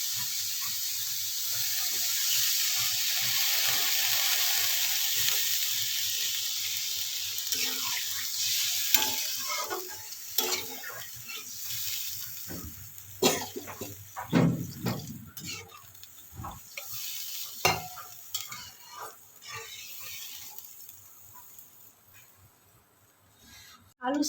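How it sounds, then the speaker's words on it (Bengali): Water poured onto spiced potatoes in a hot pan sets off a loud hissing sizzle, which then settles into softer bubbling broken by stirring clinks and scrapes. "এরপর জল দিয়ে দেব"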